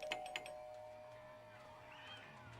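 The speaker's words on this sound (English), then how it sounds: "She would never ring the doorbell so many times" Doorbell ringing in a horror video game, two quick chimes at the start and then a long, faint ringing tone over a low, quiet background hum.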